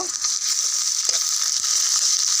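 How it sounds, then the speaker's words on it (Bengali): Chopped onion fries in oil for a soybean curry, giving a loud, even, close sizzle that holds steady with faint stirring underneath. "পেঁয়াজ কুচিটা একটু লাল করে ভেজে নেব"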